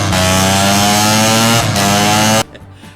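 A broken-down Mazda RX-7 race car at a 24 Hours of LeMons event at GingerMan runs with a harsh, buzzy, raspy engine drone that holds loud and steady, dips briefly, then cuts off abruptly.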